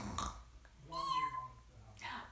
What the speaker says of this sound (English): there is a cat, a snoozing cat.